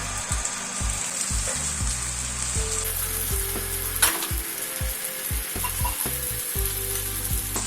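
Batter sizzling on an oiled tawa over a medium gas flame for a quick breakfast, heard as a steady close hiss with a few faint clicks and a low hum.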